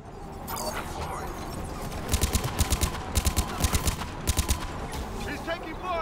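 Bursts of automatic gunfire in the sci-fi shooter Mass Effect 3, several rapid volleys of sharp shots in the middle of a steady combat din, with voices speaking over the fighting.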